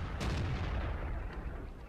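A single tank gun shot in the video game World of Tanks booms near and loud, its blast quickly fading into a rumbling tail.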